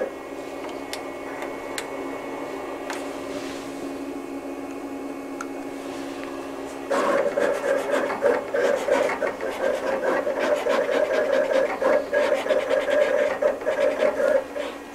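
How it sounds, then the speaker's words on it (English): A cutting machine cuts CAD-CUT flock heat transfer film, first with quiet ticks and a faint whir, then a busier run of rapid clicking and whirring plotter movement that continues steadily to the end. "Now I'm ready to set the machine up to where I want it to start cutting and send over my job."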